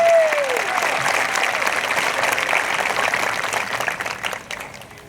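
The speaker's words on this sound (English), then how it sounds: "Hey, y'all clap it up one more time for our speakers." Audience applause at a 2020 graduation ceremony for the speakers, a loud, dense burst of clapping that begins at full strength and slowly tapers off over about five seconds.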